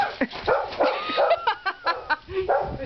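A puppy yips and barks in a quick, uneven series of short, close calls with high whimpering tones, fairly loud and without talk.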